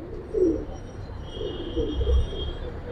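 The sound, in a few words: old-breed hammer pigeons cooing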